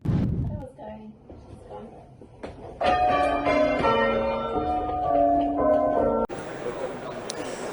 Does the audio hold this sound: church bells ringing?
yes